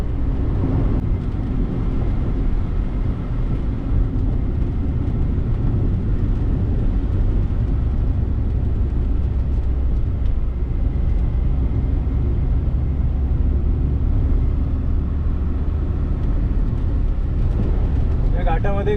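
Cars and trucks drive across the Atal Setu bridge, a steady loud low rumble of passing traffic and road noise throughout.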